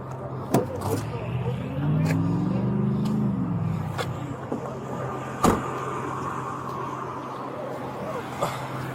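A car's electric power window motor whirs steadily as the glass lowers, a close continuous hum with a few clicks and knocks, heard inside a stationary car on a hot day during a traffic stop.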